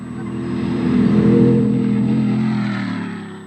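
A big-engined rally car in the Waterberg 400 South African Championship race revs hard and loud, its low engine roar swelling toward the middle of the three seconds and then holding steady, with no voices.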